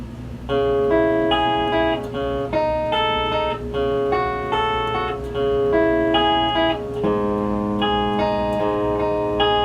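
Electric guitar playing a song's interlude riff slowly, a repeating run of ringing picked notes with a lower note entering near the end, close and alone over faint hum.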